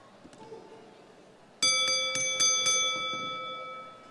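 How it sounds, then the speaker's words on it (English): Boxing bell at a professional boxing event in Montalban Gymnasium, Montalban, struck several times in quick succession, loud and close, with bright ringing overtones that hang and slowly fade after a quieter stretch of room noise. "Pagtunog ng bell ay hudyat na nandiyan."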